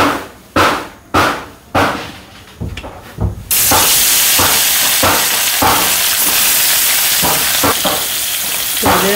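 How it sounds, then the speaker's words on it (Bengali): Village-style rohu fish pieces hit hot oil in a pan and burst into a loud, steady sizzle that runs continuously, after a few sharp knocks and clatters from the cooking setup. "মাছ দিয়ে দিছি, মাছগুলো ভাইজা নিই"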